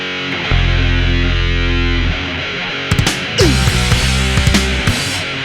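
A metal recording plays loud and dense, with heavy distorted guitar and low sustained bass chords, then drum hits punch through in the second half.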